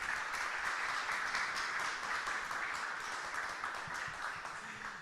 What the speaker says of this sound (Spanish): Un aplauso para el doctor Odalis Pérez.